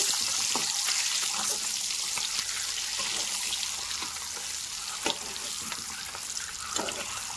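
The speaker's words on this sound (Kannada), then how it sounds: "ಸ್ವಲ್ಪ ಖಾರಕ್ಕೆ ಚಿಲ್ಲಿ ಪೌಡರ್ ಹಾಕ್ತಾ ಇವಾಗ ಇದನ್ನು ಸ್ವಲ್ಪ ಫ್ರೈ ಮಾಡ್ಕೊಳ್ಳೋಣ" Turmeric and chilli powder fry quietly in a pan for egg curry, a soft continuous hiss and sizzle with a few small clicks, fairly faint and with no talking.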